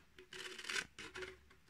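A few short rasping, scraping strokes of a bottle cutter slicing a narrow strip from a plastic bottle, close and quiet, with brief pauses between them.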